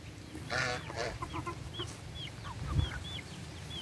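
Two bantam chickens cluck and call in short bursts against an outdoor background, with a few higher chirps and a faint thump, moderately close and clear.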